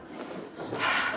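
Quick, forceful breaths in and out during a group breathing exercise in a presentation-skills lecture, a steady rush of air that swells louder toward the end with no talking.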